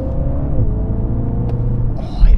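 A MINI JCW Countryman with a 306-horsepower engine accelerates hard, a loud, steady low engine rumble with a rising whine heard from inside the cabin.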